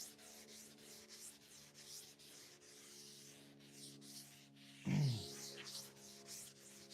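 Rhythmic scratchy sanding strokes rasp back and forth against plywood at close range, with a brief louder bump midway.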